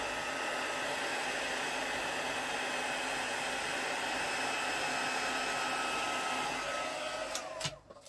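A hair dryer runs loud and steady, drying glued paper on a decoupaged bottle in a craft setting, with a continuous broadband roar that cuts off abruptly near the end.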